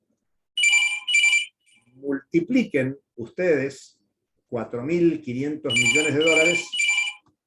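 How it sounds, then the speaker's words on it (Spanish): A mobile phone ringtone sounds during a university lecture, its high electronic tones chirping in short bursts at the start and end while a man keeps lecturing in Spanish between them. "ese es mi teléfono, mi timbre, perdón"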